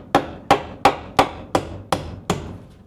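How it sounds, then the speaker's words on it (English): A hammer pounds wood in steady succession on an off-grid Alaskan build, seven crisp, close, evenly spaced strikes with short decaying rings and no voices. "I freaking love this hammer."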